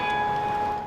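Church bells at St. Rose of Lima Church in Sandy Hook toll for the December 14th anniversary Mass, a brief, steady ringing hum with sustained overtones fading slightly at the end, no voices.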